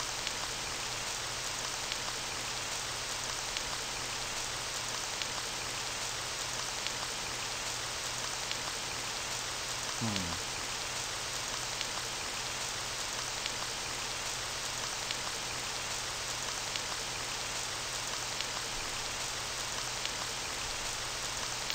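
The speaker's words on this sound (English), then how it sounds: "Yay, it's fucking raining." Continuous rain pours down in the video game Phantom Legacy, a steady, even hiss, with a brief low whoosh partway through and no talking.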